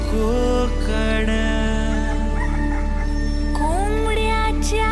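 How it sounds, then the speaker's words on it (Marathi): A rooster crows at dawn in the Konkan countryside, drawn-out calls rising over a steady loud music bed, with other birds chirping faintly around it. "कोंबड्याच्या आरवण्याचा आवाज"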